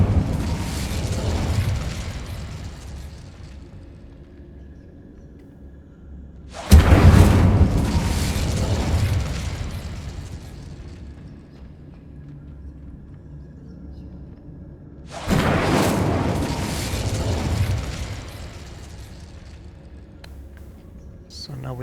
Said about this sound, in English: so now we have everything burning